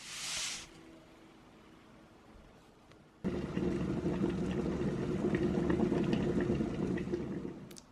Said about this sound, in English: I've been pouring boiling hot water in.